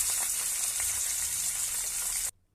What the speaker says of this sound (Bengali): তো আমি তিনটে তিনটে করে মাছগুলো ভেজে নেব।